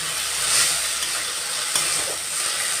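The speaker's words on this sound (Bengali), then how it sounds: "আমি এটা ভালো করে কষিয়ে নেবো যাতে আদা রসুনের গন্ধটা না আসে" Cumin and coriander powder spice paste frying in a pan, a steady close sizzle with soft stirring scrapes running throughout, no voices.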